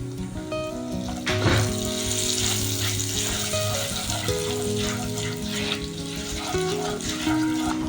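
Curry leaves hit a mustard-seed tempering in hot oil in a tarka pan, setting off a loud, sudden burst of close sizzling that keeps crackling steadily throughout.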